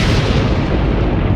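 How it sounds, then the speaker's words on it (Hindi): Explosion effect in an audio story as a frozen lake's ice cracks apart, a dense, loud, sustained boom and roar filling the whole short clip. "एक बड़े विस्फोट के साथ झील के जमे हुए पानी में दरार आ गई"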